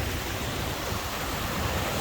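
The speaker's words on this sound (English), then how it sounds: "I want to have a quick shot of the waterfall" A waterfall on the river flowing down from Llyn Idwal in Snowdonia roars as a dense, steady broadband rush of falling water, loud and close, with no voices.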